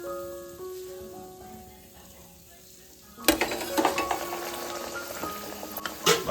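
Potato vadas, batter-coated fried snacks for vada pav, frying in hot oil; quiet tonal background at first, then a loud, dense sizzle and crackle bursts in and continues steadily with a few sharper pops toward the end.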